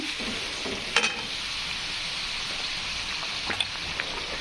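Gravy masala frying in oil in a pan for a chickpea-lentil kadhi, a steady soft sizzle with a couple of brief stirring clinks.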